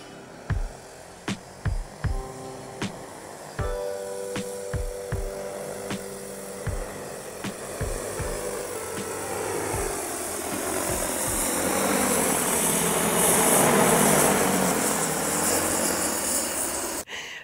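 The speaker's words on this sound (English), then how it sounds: "the drone will just fly right out there, spread our fertilizer, and come right back" An agricultural spray drone flies out over a sweet corn patch spreading fertilizer. A few sharp knocks come first, then a broad, rushing rotor roar swells loudly, peaks and eases off, with no talking.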